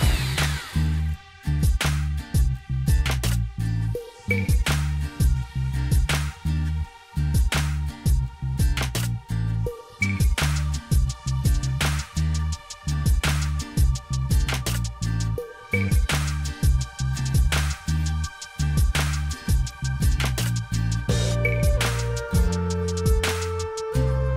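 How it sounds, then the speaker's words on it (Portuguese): Power drill boring holes low on a wall during house construction, loud repeated bursts of whirring and grinding with short pauses between each hole, with no talk over it. "Agora o tio vai furar a parte de baixo."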